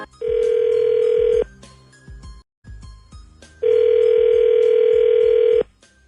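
A telephone call rings out on the line: two long, steady ringback tones separated by a pause, loud and clear with no talking.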